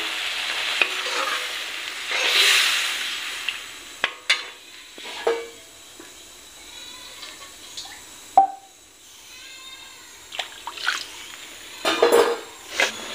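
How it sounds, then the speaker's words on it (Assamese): Water goes into masoor dal cooking with drumstick leaves and jackfruit seeds in a pan, bringing bursts of sizzling hiss between scattered stirring clinks and scrapes, with quieter gaps in between. "আৰু অলপ পানী দি দিলোঁ।"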